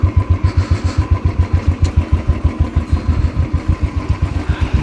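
A motorcycle engine runs close and loud while riding back from the market on a rainy-season day in Chakrata, Uttarakhand, with a steady, fast pulsing throb and no voices.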